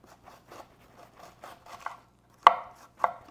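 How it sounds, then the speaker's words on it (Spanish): A knife finely chopping cabbage for curtido on a cutting board, a run of light quick chops followed by two louder, sharper strikes near the end, with no talking. "estaremos picando lo más fino que usted pueda el curtido, el repollo"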